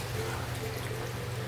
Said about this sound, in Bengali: তো এখন আমি জল অ্যাড করে দেবো।